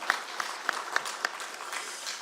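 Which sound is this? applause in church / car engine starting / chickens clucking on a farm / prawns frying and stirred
applause in church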